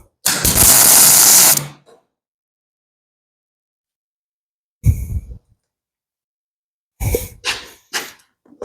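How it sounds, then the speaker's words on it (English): An exhaust elbow for a 7000 gets a short tack weld: a loud steady buzzing crackle runs for about a second and a half, then after a long silence come a brief burst and a few shorter bursts. "Just zap a little tack on that there."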